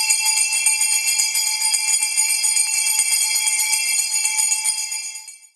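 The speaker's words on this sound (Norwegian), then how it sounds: "så derfor vil jeg ringe i bjellen for dere." A ceremonial bell rings at a Euronext Growth stock exchange listing in Oslo, a rapid bright metallic ringing held steady for about five seconds before fading out, with no voices.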